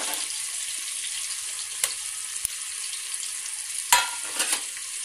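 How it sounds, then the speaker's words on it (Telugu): Ginger garlic paste and salt fry in a pan, giving a steady close hiss and sizzle with a few sharp spatula clicks and stirring scrapes, and no talking. "ఇందులో అల్లం వెల్లుల్లి పేస్ట్ వేసుకుంటున్నాను"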